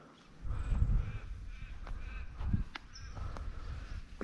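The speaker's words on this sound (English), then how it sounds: "Birds are singing." Crows caw several times outdoors on a morning in the countryside, at middle distance over low rustling and ambient rumble, with footsteps moving nearby.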